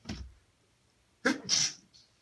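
A single sneeze bursts out at close range after a soft breathy intake, then fades into quiet.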